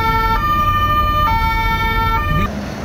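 Ambulance siren wailing in Baghdad traffic, a loud two-tone cycle stepping between pitches every second or so, close and continuous over the rumble of road traffic until it cuts off near the end.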